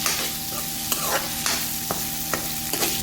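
Onion sautéing in a pan for Bicol-style sarciadong isda, a constant sizzle broken by a few sharp scrapes and clicks as a utensil stirs the pieces, close up with no talking.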